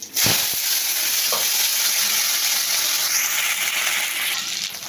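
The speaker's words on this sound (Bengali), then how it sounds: "এবার আলুগুলো দিয়ে একটু ভাজা ভাজা করে নিই" Potatoes fry in hot oil with nigella seeds, giving a loud, continuous close-up sizzle. A couple of sharp stirring knocks come at the start, and the sizzle eases slightly toward the end.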